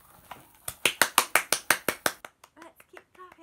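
Hands clap about ten times in a quick, steady rhythm, loud and close, then the claps trail off into a few softer, scattered taps.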